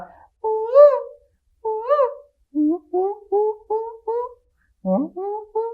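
A human voice imitates a string of bird calls, a few long warbling hoots followed by a quick series of shorter chirping notes, clear and close with brief pauses between them.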